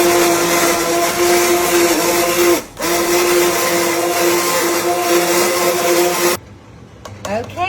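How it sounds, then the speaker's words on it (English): Cuisinart immersion blender whirring through homemade tomato soup in a pot, a loud steady motor tone that briefly cuts out and resumes, then stops near the end, with speech over it. "I have the Cuisinart immersion blender, and you're gonna put it in there,"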